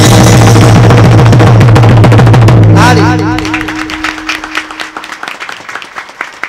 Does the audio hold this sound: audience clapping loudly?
yes